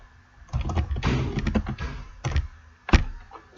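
Keys clack on a computer keyboard while text is entered into an Excel spreadsheet, in quick irregular bursts of close clicks and taps with short pauses between. No voices are heard.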